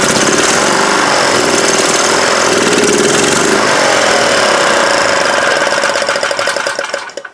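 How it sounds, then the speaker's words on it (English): Honda GX390 or Predator 420 small engine on a golf cart conversion running with a loud, steady rapid chugging that cuts off at the end. "As you can see, it fires right up."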